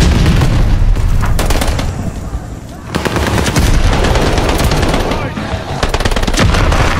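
Sten submachine gun firing in Call of Duty Vanguard: loud, sustained automatic bursts with brief pauses, joined by booming impacts throughout.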